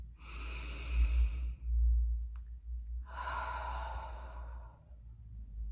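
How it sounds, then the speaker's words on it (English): Two long, slow, deep breaths, close and soft: a drawn-out airy exhale, a pause, then a second steady breath, over a low background rumble. "Nice deep breaths in and long,"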